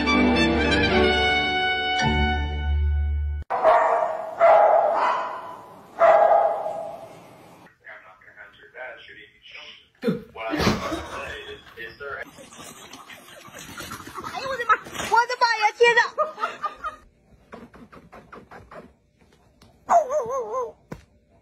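A small dog yips and barks in short bursts amid loud, varied sounds and talking, with quieter stretches between.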